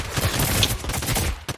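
Burst rifle fire in the video game Realm Royale, with rapid crackling shots in quick bursts over a busy, loud game soundscape.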